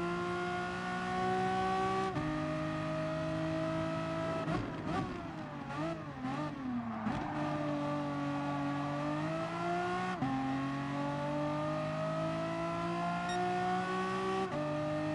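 Race car engine in Gran Turismo Sport, a loud, steady high-pitched drone that drops sharply through several downshifts, wavers while the car brakes and turns, then climbs again, with a faint tire squeal.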